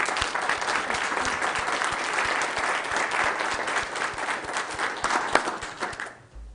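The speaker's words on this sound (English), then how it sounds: "Please join us in a round of applause for Kim." Sustained applause from an audience at a county government meeting, dense and steady for several seconds before fading out abruptly at the end.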